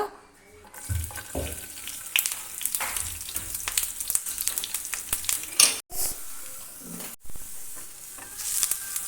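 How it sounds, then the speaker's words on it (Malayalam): Ginger and garlic roast in hot coconut oil for a fish curry, giving a continuous close sizzle with intermittent scraping and stirring clatter and a couple of brief gaps. "ഇഞ്ചിയും വെളുത്തുള്ളിയും ഒന്ന് ചെറുതായിട്ടൊന്ന് റോസ്റ്റ് ചെയ്ത് കൊടുക്കുക."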